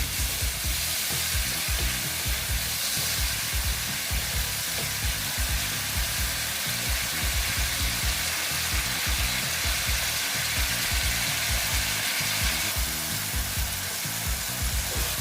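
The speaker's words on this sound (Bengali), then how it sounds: "এই ডালটা তো সেদ্ধ হতে হবে সেই জন্য দিয়ে এটা ভালো মতন কষিয়ে নিচ্ছি" Dal with vegetables is fried and stirred in a pan for a Bengali chal kumra ghonto, giving a steady, close sizzle with frequent scraping and clinking of the spoon throughout.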